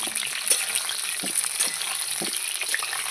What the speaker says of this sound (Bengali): তেল আমার গরম হয়ে গেছে এবার আলুগুলো দিয়ে দেবো আলুগুলো দিয়ে দিয়েছি একটু নাড়িয়ে নেব